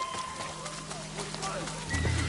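A horse whinnies over a busy Ghost of Tsushima game soundscape, with hoof clatter and other effects layered underneath.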